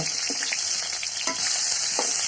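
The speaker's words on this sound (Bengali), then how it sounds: "এখন সুন্দর মতো এই তেলাপিয়া মাছগুলো ভেজে নিচ্ছি" Tilapia fish fry in hot oil with a bright, continuous sizzle up close, with soft bubbling pops and a few quick stirring scrapes.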